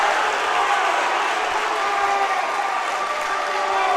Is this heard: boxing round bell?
no